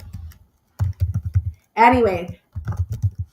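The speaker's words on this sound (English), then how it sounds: "let me type this." Quick bursts of typing on a computer keyboard, clusters of soft close key taps with short pauses between them and a brief spoken word in the middle.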